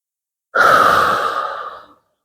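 A single long, heavy exhale, like a tired sigh after exertion, close and clear against silence.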